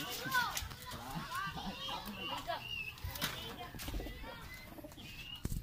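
Racing pigeons coo and flutter near their loft in an outdoor yard, soft repeated coos under children's voices and people talking nearby.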